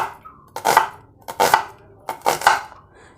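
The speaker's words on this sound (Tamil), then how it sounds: "இப்போ சின்ன துண்டு துண்டாக அரிஞ்சிக்கலாங்க." Knife chopping washed onions into small pieces on a board, three loud close bursts of rapid cuts with short pauses between them.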